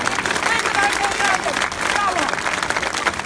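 A large outdoor crowd in a town square in Trieste applauding at a political rally, steady dense clapping sustained throughout with some voices mixed in.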